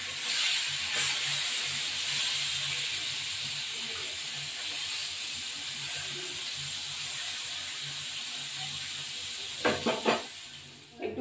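Two kinds of fish sizzle steadily in a hot pan, giving a loud, even hiss that fades slightly over time, with a few brief clatters near the end.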